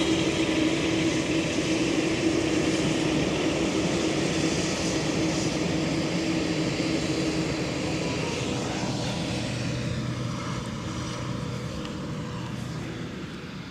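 A Qatar Airways Boeing Dreamliner takes off at Edinburgh Airport, its broad jet engine roar holding steady from a distance and then slowly fading, with no voices.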